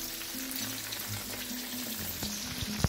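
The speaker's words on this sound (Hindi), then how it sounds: "इसको डीप फ्राई करना है इनको, हम वरना अगर हम हल्की आंच पे करेंगे तो ये सॉगी हो जाएंगे।" Bell pepper pieces deep-frying in hot oil over high heat, a steady close sizzle with faint bubbling crackle and a few louder pops near the end.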